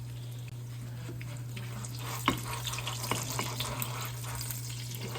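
Funnel cake batter frying in a pot of hot oil, giving a steady soft sizzle and hiss with a few sharper crackles and pops, close by and with no talking.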